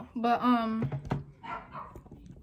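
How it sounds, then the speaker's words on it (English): A dog barks a few times indoors, with a drawn yelp followed by sharper short barks. A person talks briefly nearby at the same time. "my dog's barking"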